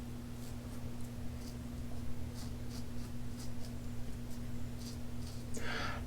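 Close, faint scraping strokes of a razor shaving lathered stubble, repeated at an irregular pace over a low steady hum, with no voice.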